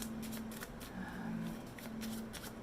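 Playing cards being shuffled at close range during a pick-a-card tarot reading, with soft riffling and brushing bursts that repeat across the moment over a steady low hum, with no voices.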